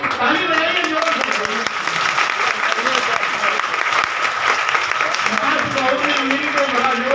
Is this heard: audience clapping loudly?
yes